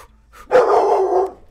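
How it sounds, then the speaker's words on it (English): A dog in the video game Ibb & Obb lets out a single loud, close bark lasting under a second, standing alone against near silence. "Shut up, dog!"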